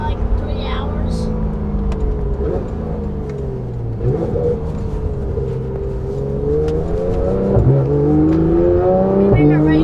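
A Porsche GT3 RS fitted with Dundon race headers and a full exhaust revs loudly close by, its engine tone rising and falling steadily as people talk over it.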